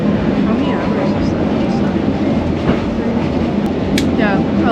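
Passenger train on an overnight run to Da Nang, Vietnam, rolling steadily on the rails with a continuous low rumble and faint wheel clatter, brief squeaks near the end.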